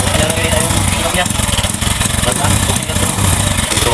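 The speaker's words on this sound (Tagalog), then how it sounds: "So, okay na yung tunog ng ating motor." Motorcycle engine idling after a welded muffler repair, with a steady, throbbing putter, close and loud, with a person talking over it.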